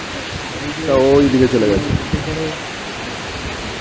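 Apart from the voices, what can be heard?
Hundru waterfall, flowing water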